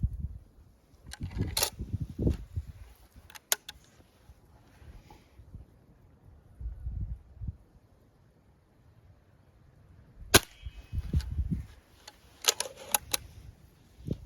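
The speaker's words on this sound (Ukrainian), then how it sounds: "Зроблю 7 пострілів та подивимось на купність." Several sharp, sudden cracks from an MP-512 Baikal air rifle spaced apart outdoors, each a crisp snap with quiet gaps and light wind between them.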